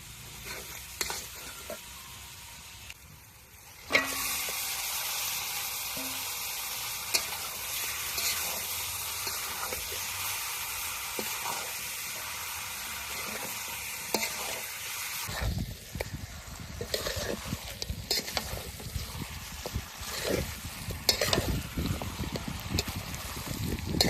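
Meat tipped into a pan of sautéed spices and oil with a little Kashmiri chilli powder, sizzling loudly and steadily while a spoon stirs and scrapes in uneven bursts, with no one talking.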